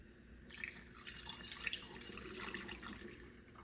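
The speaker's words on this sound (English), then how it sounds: "We're gonna pour our agar mix, make sure it's all nicely mixed together and nicely liquefied." Warm liquefied malt extract agar mix being poured into plates, a soft continuous trickling and splashing of liquid, close and steady, with no talking.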